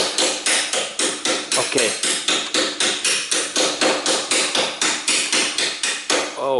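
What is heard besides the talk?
hammering a car's rear spring upper bolt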